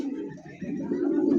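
A single young pigeon kept in its own case makes a low, steady, breathy call, continuous and fairly close for a moment.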